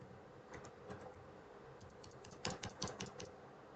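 Keys clacking on a computer keyboard in irregular, fairly quiet bursts, picking up into a denser flurry of keystrokes toward the end, with no talking.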